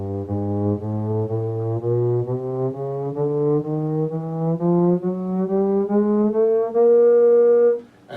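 A theremin glides slowly upward in chromatic half steps, each sustained, buzzy, horn-like tone stepping a semitone higher in a steady, loud, continuous line with no voices.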